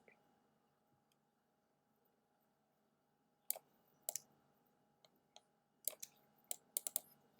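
Computer mouse clicks during design work in Adobe Illustrator: sharp, close single and double clicks arriving in irregular bursts over a quiet, faintly humming room.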